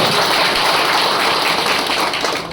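Audience applause at a public speech, a dense, steady wash of clapping from a crowd, loud and sustained, tapering slightly at the end.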